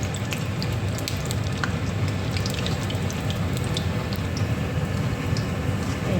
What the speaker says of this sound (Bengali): এইভাবে আমি বাকি সবকটা পকোড়া ভেজে নেব।